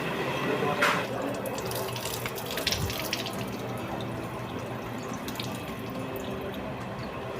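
Water runs steadily from a tap at the Khirpai Boro Maa Kali temple, a continuous splashing rush with faint voices and ambient noise in the background.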